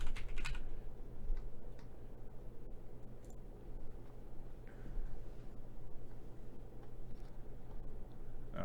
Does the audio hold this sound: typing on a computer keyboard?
yes